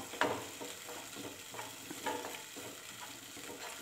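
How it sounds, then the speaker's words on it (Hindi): Wheat mixture fries in a pan while being stirred steadily, a soft continuous sizzle broken by repeated scraping strokes of the spoon, close and fairly quiet. "दस मिनट तक इसे लगातार हिलाना है।"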